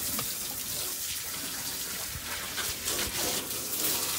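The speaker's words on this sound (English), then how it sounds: "Rinsing the tank out one last time." Water rushing and splashing inside a wood boiler tank as it is rinsed out during a rot repair, a steady broadband wash with slight surges, close and continuous with no talk.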